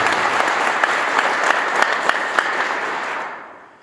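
An audience at a youth development community event claps together in a loud, sustained round of applause with a few sharper claps standing out, fading away toward the end.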